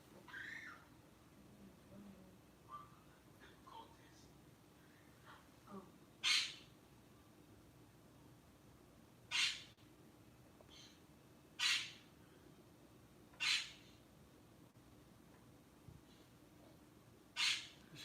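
Loud pet bird calling indoors in a room, giving sharp, piercing squawks that repeat every few seconds over a low steady background hum.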